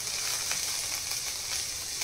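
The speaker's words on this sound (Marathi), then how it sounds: "त्या बटरमध्ये आणि तेलामध्ये छान आपल्याला फ्राय करून घ्यायचे" Capsicum, carrot, corn, peas and beans frying in butter and oil after onions, a steady close sizzle and crackle lasting the whole moment.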